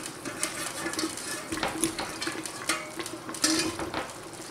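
A spoon scrapes and clinks around a cooking pot of artichokes in sauce, with a soft sizzle underneath, quiet, close and irregular.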